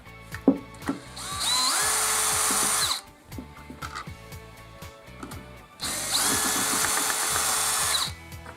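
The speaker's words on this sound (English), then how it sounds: "I'll use the drill just to speed things up." A power drill whirs loudly in two sustained bursts, each a few seconds long, removing screws from a DeWALT DW357 circular saw, with small clicks and handling knocks in the pauses between them.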